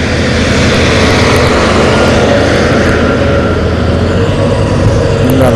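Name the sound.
small auger coring pavement holes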